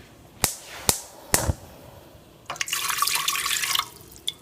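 Water splashes and runs into a cooking pot for boiling, with a few sharp clinks first and then a steady pouring rush for about a second before stopping.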